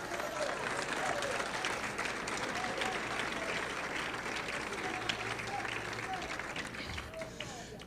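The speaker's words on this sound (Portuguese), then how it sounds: "aplauda Jesus" A church congregation applauds steadily through a sermon, a dense, sustained wash of clapping at even loudness that tapers slightly near the end, with a voice faintly present underneath.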